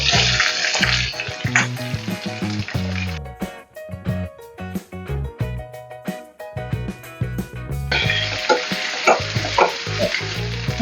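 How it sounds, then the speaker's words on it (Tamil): Garlic and onion frying in a pan for a South Indian egg and lentil curry, with a loud steady sizzle and stirring throughout, broken by a quieter stretch in the middle before the hiss swells again. "இப்போ நம்ம பூண்டு போட்டுக்கலாம். அதுக்கப்புறம் வெங்காயம் போட்டுக்கிறேன்."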